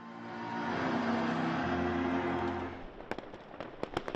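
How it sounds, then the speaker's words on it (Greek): New Year fireworks explode over Berlin: a sustained roar of distant bursts and crackle gives way to a run of sharp, separate bangs and pops. "Εντυπωσιακά πυροτεχνήματα γέμισαν τον ουρανό του Βερολίνου."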